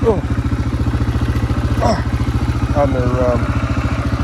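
An off-road vehicle engine runs during a woods ride, a close, steady pulsing rumble with slight throttle swells and a voice briefly heard over it.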